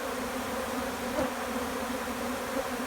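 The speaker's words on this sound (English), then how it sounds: "And you can see the bees are really enjoying this." Honey bees crowd onto honey set out as feed, their steady buzzing drone filling the air close up and continuous, with a few louder passes near the middle and end.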